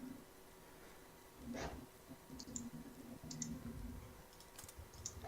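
Quiet, sparse mouse clicks while salvaging items in Diablo III, a few soft separate taps over a low game hum, with brief faint voice sounds in the background.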